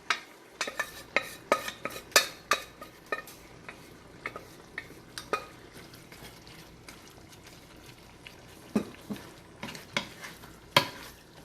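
A spoon stirring boiled mutton pieces into part-cooked vegetables in a stew pot, sharp irregular metallic clinks and scrapes in bursts over a low cooking hiss, close and alone without talk.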